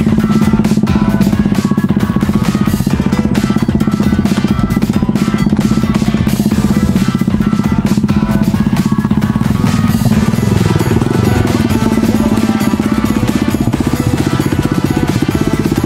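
A motorcycle engine runs loud and close throughout on a ride in Tineg, Abra, after its chain was refitted, a steady rough drone with rattling clatter and no voices.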